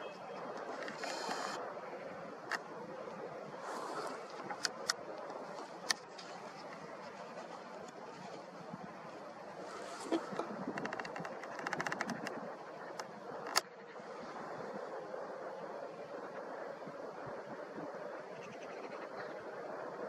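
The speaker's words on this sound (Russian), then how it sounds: "ветер." Wind gusts steadily across an open field at night, a broad rushing roar buffeting the microphone for the full stretch, with a few faint clicks and no talk.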